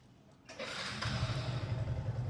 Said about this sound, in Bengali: আবার ইঞ্জিনের সাউন্ডও কিন্তু খুবই স্মুথ।